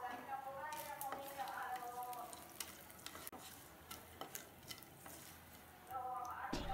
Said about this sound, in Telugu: రెండు ఎండుమిర్చీలు, 2 కరివేపాకు వేసి వేయించాలి